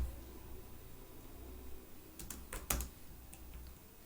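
Quiet keystrokes on a computer keyboard while entering Python code, a few soft scattered taps that cluster into a short burst near the end, faint and without talk.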